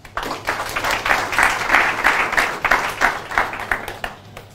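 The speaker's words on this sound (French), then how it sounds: "Est-ce qu'on peut applaudir pour lui?" An audience at a discussion event claps in a sustained burst of applause that swells and then fades toward the end.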